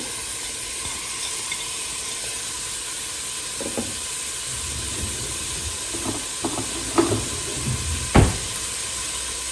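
Onion frying in hot oil in a saucepan gives a steady, broad sizzling hiss throughout, with a few brief louder crackles and spits near the end and no voices.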